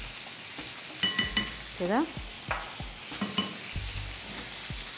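Garlic frying in a pan gives a soft, steady sizzle with scattered clinks and scrapes of stirring, while someone talks briefly nearby.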